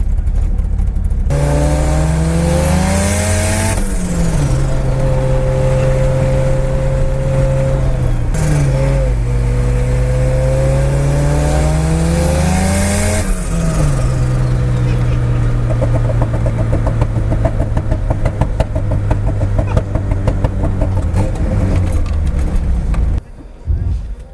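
A Datsun 240Z with upgraded suspension driving hard, its engine droning loud and close, rising through each gear in long steady pulls with brief dips at the shifts and a fading tail at the end. A voice is heard over it.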